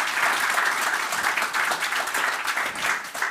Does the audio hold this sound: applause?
yes